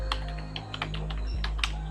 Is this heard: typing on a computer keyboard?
yes